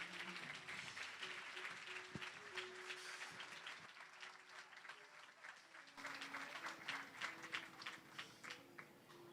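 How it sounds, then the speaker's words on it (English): Sustained audience applause at a Cesar Chavez scholarship awards ceremony, a steady wash of many hands clapping for the full stretch, moderately loud and close, with a brief shift in tone partway through. "let's give them another round of applause"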